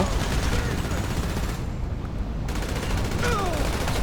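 Gunfire in a GTA 5 shootout, rapid repeated shots and bursts layered with explosions and game noise, loud and continuous with a brief dip in the middle.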